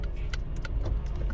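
A car's engine runs at a low, steady hum during a short drive around the block, with a few light clicks over the drone and no talking.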